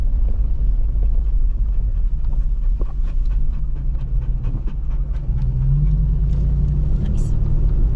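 A pickup truck drives along a forest road in Coconino National Forest, Arizona, a loud, continuous low engine and road rumble with bumps and rattles heard from inside the cab as people talk.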